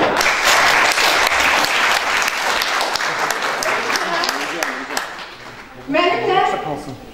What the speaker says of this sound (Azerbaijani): müzisyenlərimizi bir alqışlayaq